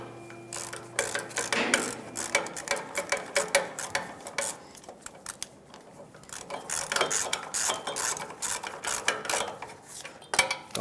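Ratchet snugging up the flange bolts on a catalytic converter of a 1998-2002 Lincoln Navigator, with rapid clicking bursts in repeated back-and-forth strokes, close and distinct with brief pauses.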